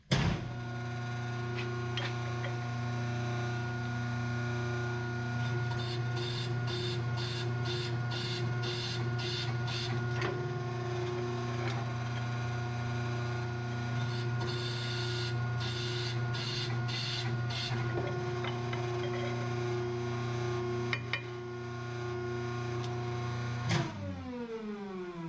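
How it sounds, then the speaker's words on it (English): A small shop-made brake press runs with a steady mechanical hum and drone, broken by bursts of rapid rhythmic clicking, before a final clunk near the end. "testing a little brake press that we made in our shop here"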